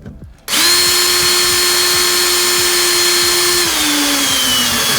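A power drill fitted with a 1/8 inch bit whines loudly and steadily after an abrupt start, drilling into a desk build, with its pitch dropping slightly near the end; nothing else is heard.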